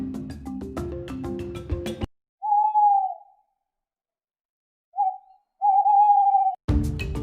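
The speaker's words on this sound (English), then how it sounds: "Owl." An owl gives a few drawn-out hoots in quiet isolation, first one long call, then a short note followed by another sustained hoot, framed by bursts of music before and after.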